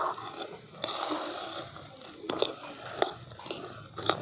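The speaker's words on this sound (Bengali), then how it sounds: "খুব ভালো করে মিশিয়ে নিচ্ছি।" Fried sago pearls being stirred and mixed in a pan, giving scattered scraping and clinking strokes with soft rattling between them, fairly close and alone without talk.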